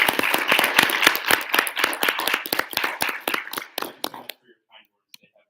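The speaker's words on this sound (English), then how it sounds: "If you could just give Associate Provost Yogan one more round of applause tonight." Attendees at a student senate meeting give a round of applause, crisp close claps that thin out and stop, leaving near silence with faint sounds at the end.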